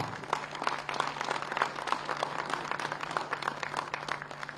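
An audience claps steadily for a memento presentation to a chief minister at a Gandhinagar foundation day event, with dense, even applause from a crowd under a faint electrical hum.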